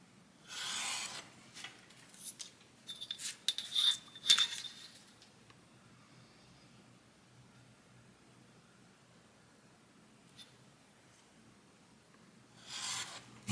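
Paper game cards being trimmed of their white edges, soft scraping and rubbing strokes in short bursts, close and quiet, with a long hush in between and a last brief swipe.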